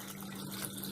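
Water trickles steadily into a grinder jar holding soaked chana dal, a brief close pour that sounds even and continuous without a pause.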